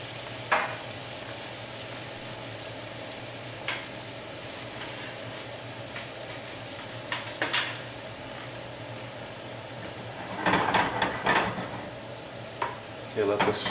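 Brandy and orange juice sauce sizzling and reducing in a pan, a steady soft frying hiss with occasional stirring scrapes and clinks, busier bursts near the end, no talking.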